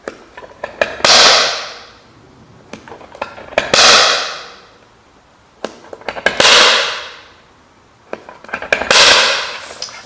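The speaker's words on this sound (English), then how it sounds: "so I'm going to punch all of them." A hammer strikes a centre punch to mark four hole positions on metal parts for a vintage truck model, giving sharp ringing metallic blows in clusters of two or three, loud and close, each with a short decaying ring.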